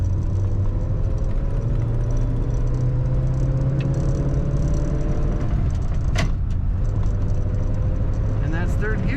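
A 1941 Cadillac Series 62 coupe drives along a road, its engine droning steadily and rising in pitch as it pulls through the gears, with a faint shift clunk midway and a voice talking over it.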